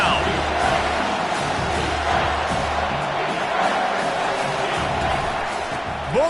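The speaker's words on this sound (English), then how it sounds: "This crowd knows this defense needs them right now." Football stadium crowd roaring and cheering for the home defense, a dense, steady wall of crowd noise throughout, with a commentator talking over it.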